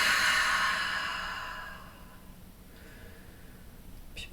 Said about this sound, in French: Profonde expire par la bouche